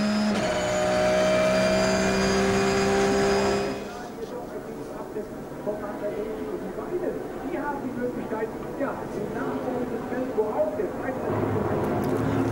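Race cars at the start of the Nürburgring 24-hour race, a loud sustained engine roar for a few seconds followed by a fainter mix of engines and crowd noise.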